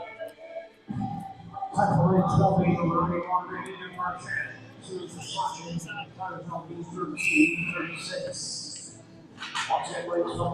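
A referee's whistle at a junior C ice hockey game stops play after the net is knocked off, sounding as brief shrill tones amid crowd noise and rink echo while a commentator talks.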